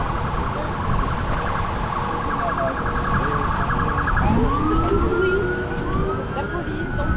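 Wailing police and ambulance sirens blare over steady traffic noise in New York City, one warbling and another sweeping in pitch, fairly close and loud.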